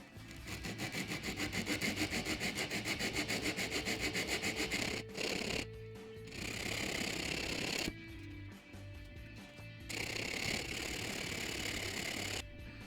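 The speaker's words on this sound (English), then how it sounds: "Hand sanding is the best way to cut these beds in." Snare drum bearing edges being hand sanded, steady rhythmic rubbing strokes close up in long back-and-forth passes, broken by short pauses between bursts.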